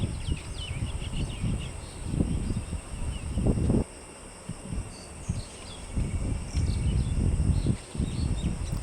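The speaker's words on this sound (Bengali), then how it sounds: "পাখির ডাকগুলো অনেক ভালো লাগছে, কিচিরমিচির শব্দ।" Birds chirp and twitter outdoors on an afternoon in the countryside near goats and a duck, with a steady insect-like background hum and low rustling wind noise filling the scene.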